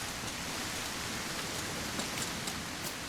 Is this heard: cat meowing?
no